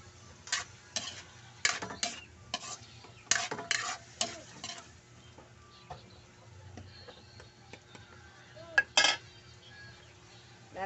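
Chili going into a pan of scabeche, then a spoon stirring and scraping: a run of sharp metallic clinks and scrapes, close and fairly loud, with a faint sizzle underneath and quieter pauses between bursts.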